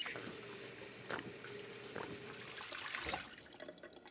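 Water pouring from a tap into a container in the video game Project Zomboid, a steady close trickle and splash lasting a few seconds with small clinks, no talking.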